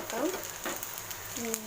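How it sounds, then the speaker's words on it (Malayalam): Mustard seeds splutter and sizzle in hot oil for an onion pepper dal, a soft crackling fry heard close but quietly, with a person talking over it. "കടുക് പൊട്ടി വന്നിട്ടുണ്ട്."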